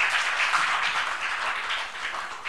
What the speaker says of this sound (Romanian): Haideți să ne aplaudăm pentru că avem un potențial.